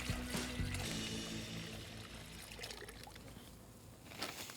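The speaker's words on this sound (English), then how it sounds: "pour the brine mixture into the bag." Brine mixture for curing pork is poured into a large resealable plastic bag, a steady splashing trickle that lasts several seconds at close range before tapering off.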